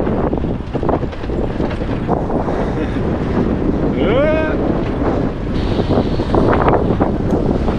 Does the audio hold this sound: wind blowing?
yes